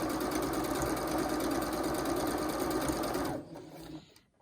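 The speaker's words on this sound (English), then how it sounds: "I'm actually gonna back stitch back over that area just to make sure that that elastic is really" Sewing machine back stitching over elastic while making a PPE face mask, a steady loud mechanical whirr running continuously for several seconds before stopping abruptly, with faint handling sounds afterward.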